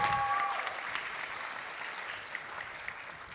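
Applause from a gathering of university students at a petition event, a broad, even wash of clapping that starts strongest and slowly fades, with a brief whistle-like tone at the start.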